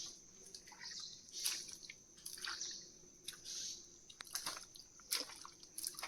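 A small, freshly caught river crab is washed and shaken in water outdoors, giving wet squishing, dripping and splashing sounds in irregular bursts at close range, with no talk.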